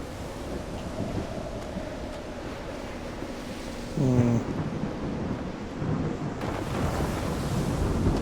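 Thunder rumbles through a stormy scene in the video game Call of the Sea, with a loud low roll midway over steady wind, rain and crashing surf.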